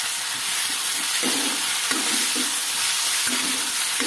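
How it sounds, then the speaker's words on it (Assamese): Tomato with salt and cumin powder being stir-fried in a pan, a steady sizzle and hiss running throughout with intermittent scraping bursts as the mixture is stirred. "এতিয়া গোটেইখিনি ধুনীয়াকৈ লৰাই পেলাই ভাজি ল'ম।"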